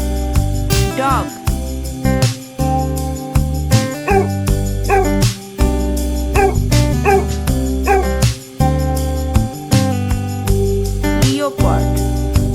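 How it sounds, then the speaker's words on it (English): A dog gives a series of short barks and yips at a regular pace, about one every second or two, set against loud continuous background music. "dog,"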